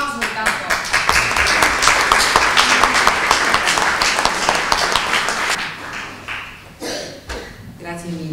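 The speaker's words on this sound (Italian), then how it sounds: "applauso. Grazie mille Salvatore" An audience applauds after a talk on the 1943 Gustav Line battles near Ortona, with dense clapping for about five seconds that thins into scattered claps and a voice speaking at the end.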